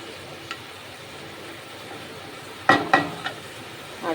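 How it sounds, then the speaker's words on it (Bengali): Greens stir-fried in a pan with a tempering of garlic, onion and green chilli give a low, steady sizzle, broken near the end by a few sharp clinks and scrapes of a utensil against the pan. "ওই রসুন পেঁয়াজ কাঁচা লঙ্কা ফোড়ন দিয়ে, আর শাকটা দিয়ে দিয়েছি"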